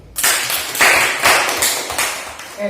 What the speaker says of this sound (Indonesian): kita beri tepuk tangan untuk kelompok 1 dan kelompok 3 dulu